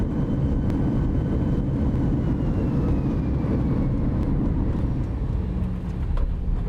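A Boeing 737-800 airliner in X-Plane 11 rolls out along the runway after landing, its engines giving a steady, even roar with faint rumbling underneath that holds constant throughout.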